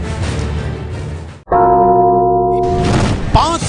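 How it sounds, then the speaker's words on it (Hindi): A single bell rings out clearly in a short burst, a sustained metallic tone with steady harmonics that stands alone between busier stretches of a Hindi news bulletin. "घंटी बजाओ।"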